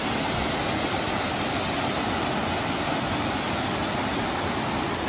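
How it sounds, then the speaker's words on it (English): Steady, dense rush of a waterfall beside a dirt road on a mountain hike, a broad continuous roar filling the whole span at close range with no voices. "but I found a pretty dope waterfall."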